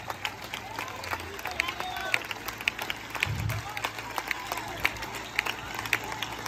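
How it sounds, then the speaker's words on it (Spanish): A church congregation at an evangelical service breaks into applause: a dense, continuous patter of many hands clapping, mixed with crowd murmur and some voices. "Dele aplauso al Padre."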